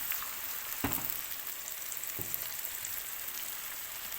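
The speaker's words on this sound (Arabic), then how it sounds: "قلبي الكبده كده خليها تاخد الصدمات بتاعتها" Liver and onions fry in a pan with a soft, steady sizzle, while two distinct stirring scrapes cut through the hiss.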